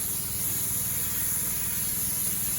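A sprayer mists Green Acres foliar fertilizer over vegetable plants, giving a steady, loud, unbroken hiss close by that runs through the whole moment with no break.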